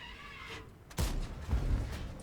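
Video-game gunfire erupts in a few sharp bursts, a loud crack near the one-second mark followed by more rattling shots, over a low background of game sound.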